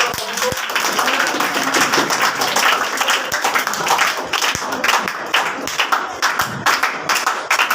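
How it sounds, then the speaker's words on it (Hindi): Students clapping and applauding in a class gathering, vigorous continuous applause with many distinct sharp claps over a dense bed of hands, loud and sustained throughout. "तो आगे थर्ड पोजीशन पर जोरदार तालियों के साथ स्वागत करो।"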